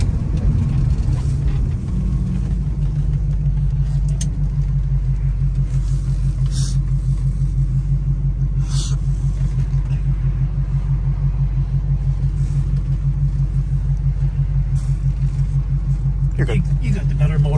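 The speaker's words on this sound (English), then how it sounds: "The engine runs so quiet." A 1973 Ford Mustang Mach 1 with a 351 Cobra Jet V8 and four-barrel carburetor hums steadily while driving, a low, smooth engine drone and road rumble running throughout, with people talking inside the car.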